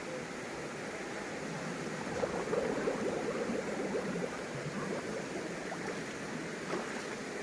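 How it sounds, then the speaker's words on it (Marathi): Water rushing and gurgling continuously as a container is filled in a flowing stream in the Konkan region, India, with a steady wash of outdoor water noise. "पहिलं पाणी भरून घ्यायचं असं"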